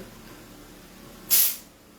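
A single short burst of silicone oil from a spray can, a sharp close hiss lasting about a quarter second, rising out of quiet room noise and fading quickly.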